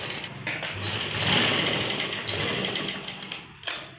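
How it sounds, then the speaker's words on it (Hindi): A sewing machine stitches face mask fabric at home, running in a close, continuous whirring buzz that swells and eases slightly, with brief pauses near the end. "इस साइड में हमें इस तरह सिलाई लगानी है इस पर"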